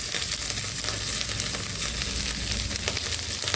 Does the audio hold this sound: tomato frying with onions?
yes